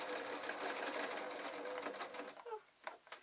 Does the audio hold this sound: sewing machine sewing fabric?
yes